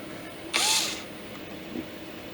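A brief high-pitched whine as a drill bit starts into a ramrod for a Kibler Colonial flintlock kit, lasting under half a second, followed by a faint scrape.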